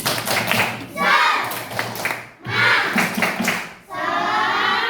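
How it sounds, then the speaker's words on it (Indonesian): Primary school children in a classroom perform a rhythmic spirit clap, patterned bursts of claps in repeated phrases separated by short pauses, with voices chanting along. "Tepuk semangat."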